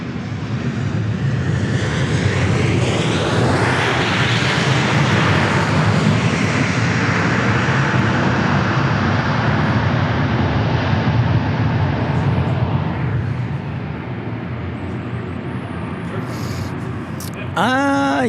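A Boeing 737 Max 8 airliner at Dallas Love Field, inbound from Harlingen, fills the air with a loud, sustained jet-engine roar that swells and then slowly eases over about seventeen seconds, with a brief clatter at the very end.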